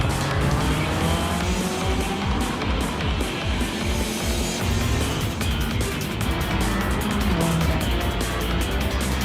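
Racing cars roar together in a Subaru battle for fourth place during a race, a dense continuous wall of engine noise with tire squeal and skidding, loud and steady throughout with no talk.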